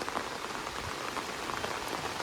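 Steady rain falls on a village in the Konkan region, a soft, even patter of drops on surfaces, fairly quiet and without voices.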